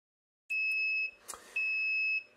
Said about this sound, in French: le buzzer va sonner 5 fois, donc le temps d'initialisation en fait